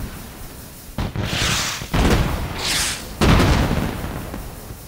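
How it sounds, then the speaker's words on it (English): Minecraft fireworks launch and explode in three separate bursts, each a sharp crack followed by a crackling fizz, fairly loud and spaced about a second apart. "What's better than fireworks to celebrate"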